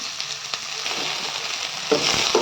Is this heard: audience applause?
no